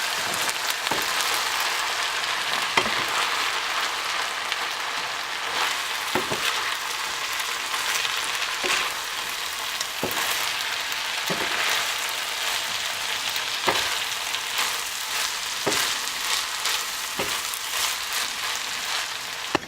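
Rice tossed with mushroom, sausage and tomato in a pan for an Italian risotto: a steady soft sizzle runs throughout, broken by regular faint scraping strokes of stirring, alone with no voices.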